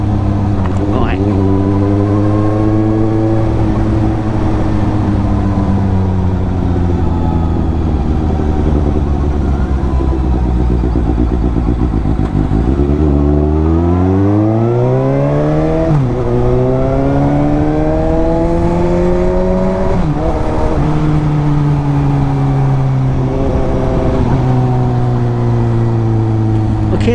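A Suzuki GSX-S750 four-cylinder motorcycle exhaust sounds while riding on an evening ride. The engine drone rises and falls through repeated revs and gear changes, loud and continuous.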